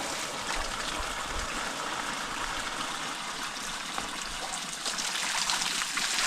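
Water pouring steadily into a container at a rural campsite near Pottangi, Odisha, a constant close rushing trickle with no break.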